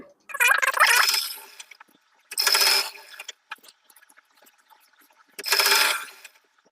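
A sewing machine stitches down the center of an Afghani salwar, running in three separate bursts of rapid, rattling mechanical clatter, close and loud, with quiet pauses and small clicks between runs.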